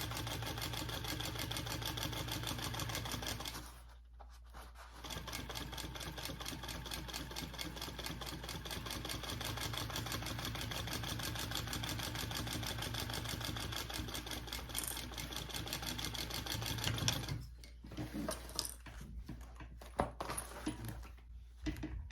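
A sewing machine runs steadily, stitching a second row about 1/8 inch beside the first on a crossbody bag, its motor humming continuously with two brief pauses and a soft clunk of the mechanism, with no talk.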